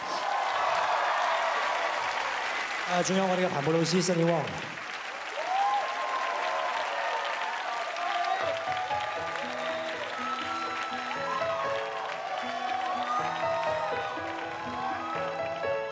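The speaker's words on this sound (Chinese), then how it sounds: "希望大家就用热烈的掌声去多谢我们今晚为大家表演的 dancers" An audience at the TVB 55th anniversary gala in 2022 applauds the dancers, the clapping spread under a host's voice at first and then under music that comes in partway through.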